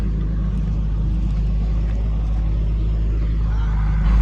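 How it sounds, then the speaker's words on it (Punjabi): A heavy diesel engine of a Mahindra Arjun 605 tractor runs steadily with a deep, even throbbing rumble close by, no other sounds over it. "ਹੁਣ ਉਧਰ ਕਰਦੇ ਆ ਟਰੈਕਟਰ ਸਟਾਰਟ"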